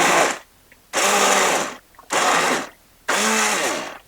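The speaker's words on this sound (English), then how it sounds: "what I am going to take is my immersion blender and blend it up" An immersion blender whirs through cooked garden tomatoes in four loud, close bursts, each roughly half a second to a second long, with short silent pauses between them.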